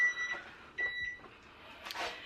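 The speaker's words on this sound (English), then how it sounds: "Oh, that's the timer." A kitchen oven timer goes off while pumpkin bread bakes, giving two short electronic tones about a second apart against quiet kitchen background noise.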